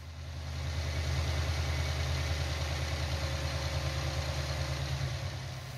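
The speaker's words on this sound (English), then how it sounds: "the engine fired up on the first try and idled smoothly" An Edelbrock E-Force supercharged Ford Mustang engine idles steadily after start-up, a deep, even rumble with a fast regular pulse and constant supercharger whine, close and loud, without voices.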